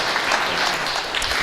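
Audience applause at a stem cell talk held at a sports and health resort in Phuket, a dense, steady wash of clapping that stays loud and even for the whole short stretch.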